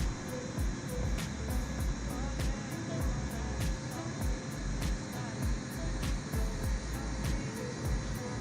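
Airliner engines spool up in Microsoft Flight Simulator 2020 on a Captain Sim aircraft, a steady roaring hum with a rising whine, heard under faint regular clicking.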